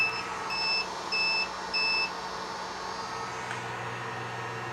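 A power inverter beeps during a discharge test of a compact 12V 100Ah LiFePO4 battery, giving three clear, evenly spaced tonal beeps over a steady hum, with no talking.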